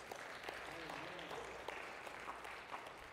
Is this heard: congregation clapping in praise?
yes